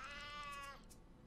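A cat in the video game Sheltered lets out a single drawn-out, wavering meow, clear and alone, ending in a few faint clicks.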